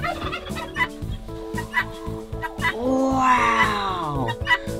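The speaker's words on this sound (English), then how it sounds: "Look at that chicken." Chickens in a coop, with a busy run of clucks and squawks building into a louder, rising call partway through, while a low background hum runs beneath.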